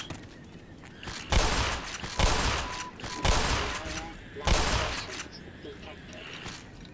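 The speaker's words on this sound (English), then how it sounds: "I don't know why I'm using the shotgun for these." Shotgun blasts against head crabs in the sci-fi shooter Black Mesa, four loud, evenly spaced booming shots, each trailing into a short decay.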